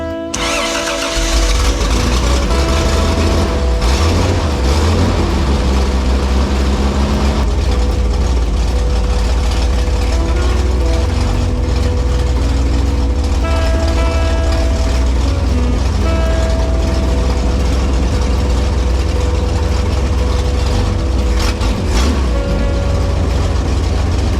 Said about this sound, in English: we're about to fire it for the first time on the Holley 2-barrel